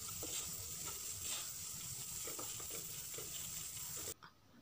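Onion masala mixed and sautéed in a pan gives a steady, continuous sizzle with soft scraping strokes from stirring. It is fairly faint and close, with no voices, and it cuts off abruptly near the end.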